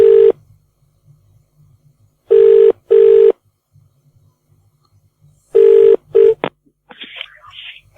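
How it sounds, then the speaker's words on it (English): Short touch-tone beeps from a telephone being dialed sound in quick pairs and bursts, loud and clean against near silence, followed by a faint crackle like a line connecting. "Let's ring him back. Bonzi, see if I can get him back on the phone."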